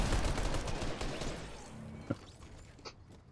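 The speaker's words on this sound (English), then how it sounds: "I thought my SMG was a shotgun, so I kept pressing it one once." Rapid SMG fire in the Fortnite video game, a dense rattling burst of shots that fades out after about a second and a half, followed by a couple of isolated impacts.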